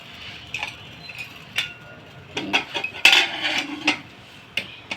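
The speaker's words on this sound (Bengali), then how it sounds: "এখন আমি কেকের মিশ্রণটা বসাই দিলাম" A cake batter pan is set down inside a preheated pressure cooker: a few sharp, close metallic clinks and knocks, with short clatter bursts over a quiet background.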